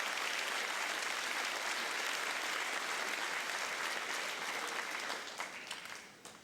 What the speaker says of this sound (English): Let's give our platform guests a round of applause.